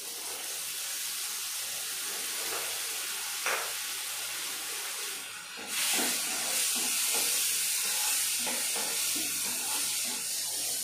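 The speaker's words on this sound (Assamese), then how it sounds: "মচুৰ দালিখন অকণমান সময় ৰঙচুৱাকৈ ভাজি ল'ম।" Red lentils fry in a hot pan with a steady close sizzle and hiss, growing louder and brighter midway as they are stirred, with faint scraping taps and no talking.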